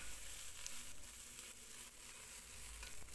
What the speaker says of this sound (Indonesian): ini saya mau masak tumis telur tomat tomat telur ini bawang daunnya dioseng-oseng